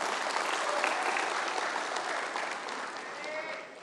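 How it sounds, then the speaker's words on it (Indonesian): An audience at a political party's 25th anniversary ceremony breaks into sustained applause, a broad wash of clapping from a large crowd that slowly fades toward the end. "Tepuk tangan tuh untuk Pak Erick Thohir."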